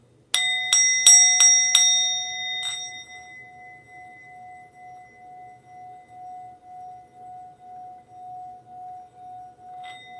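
A small bell is struck several times in quick succession, then once more, leaving a long, clear ringing tone that slowly fades in a quiet room, with a faint chime near the end.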